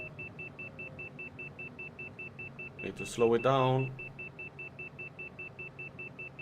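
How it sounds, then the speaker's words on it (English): A cockpit warning in a flight simulator game beeps in a fast, regular pattern that keeps going the whole time, under steady engine hum, while a voice briefly speaks over it. "Sorry for the beeping."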